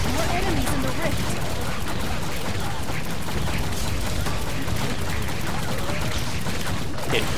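Weapon shots fired at enemies in Orcs Must Die Unchained: a rapid, dense fusillade of gunfire crackling continuously over a loud battle din, with no pauses across the stretch.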